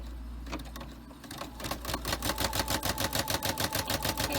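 An embroidery machine stitches at a rapid, even rate, producing a close, loud chatter of needle strokes that starts after a brief low hum and stays steady to the end.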